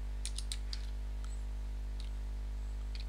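A computer keyboard is typed on in a quick burst of crisp clicks, followed by a few scattered taps, all close over a steady low electrical hum.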